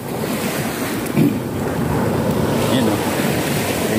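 Ocean waves wash steadily onto a sandy beach, a continuous surf roar with gusts of wind buffeting the microphone, heard close and without talking.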